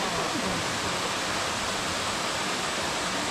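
Yongso waterfall in Seoraksan's Heullimgol valley pours steadily, a close, constant roar of rushing water with no pauses and no voices.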